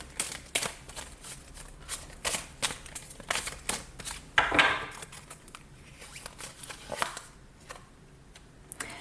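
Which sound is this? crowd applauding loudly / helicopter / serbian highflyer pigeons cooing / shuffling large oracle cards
shuffling large oracle cards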